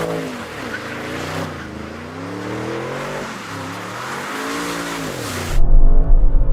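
An Audi RS7 Performance drifts, its tires squealing in long, wavering, loud howls for several seconds over engine noise, then giving way to a deeper, rough engine roar.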